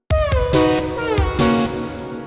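Percussion hits run through a reverb effect on an FL Studio mixer insert: a handful of sharp, loud strikes, each trailing a long ringing, washing tail that overlaps the next, with no voices.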